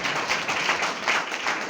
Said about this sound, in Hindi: जब ताली बजाने का मन करे तो बजा लीजिए।